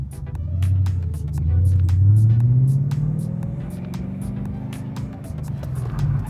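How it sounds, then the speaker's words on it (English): A car spins a handbrake donut while drifting, its engine droning in a rising, swelling rumble that holds steady and close without a break. "So now once the handbrake gets it spinning, I'm going to try to do a donut"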